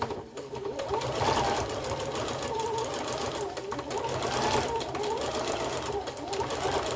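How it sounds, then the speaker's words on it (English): A sewing machine stitches paper onto a junk journal page, giving a continuous, close, rapid mechanical whir with slight swells in speed. "I'm going to stitch this on."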